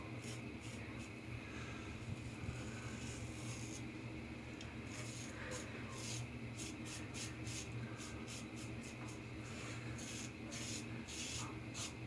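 A OneBlade hybrid razor shaving a face makes a steady close-up scraping and rasping rub, with repeated short strokes over a constant background hum.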